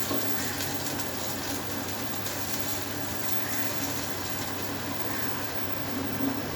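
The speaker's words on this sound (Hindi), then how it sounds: "जी, अब इसमें दूध ऐड करने लगा हूँ।" Milk poured into a pan for sweet zarda rice, a steady liquid gush and fill that runs evenly and continuously throughout, fairly close and alone with no voices.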